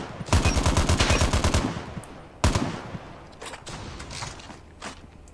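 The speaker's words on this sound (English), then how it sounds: "have a little bit of practice time, shooting some targets and do my own little thing in this area" Rapid automatic gunfire from target practice in the mobile shooter Call of Duty: Mobile, a fast burst of shots followed by a single loud report and a few scattered quieter shots, with no talking.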